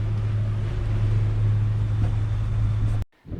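Low, steady boat engine drone at night among many boats near a breakwater, with wind rushing across the microphone, continuous and close, cutting off abruptly near the end.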